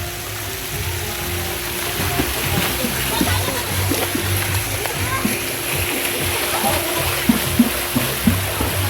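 A person swimming in water, with irregular splashes and sloshing under ongoing voices and a steady background hiss, a few sharper splashes near the end.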